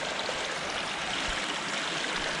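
Creek water flowing steadily through a break in a beaver dam and down a small creek run, a constant close rushing hiss with no pauses or voices.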